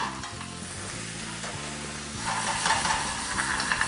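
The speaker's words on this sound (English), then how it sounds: "Stir it a little bit. lower the heat a little bit. You don't want to burn the garlic." Garlic frying in a pan for Spanish tapas, a dense continuous sizzle with stirring scrapes, growing louder and crackling more sharply in the second half; no talking.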